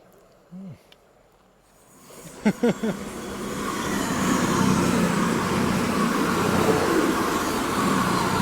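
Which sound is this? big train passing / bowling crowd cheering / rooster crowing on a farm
big train passing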